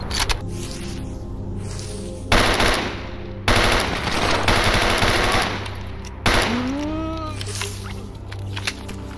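Gunfire from the video game Stalker, rapid automatic bursts with sharp reports and shifting weapon sounds, loud and close throughout, with no talk over them.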